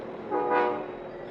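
A train horn sounds once in a radio drama, a single swelling blast that rises and fades within about a second over steady rail rumble.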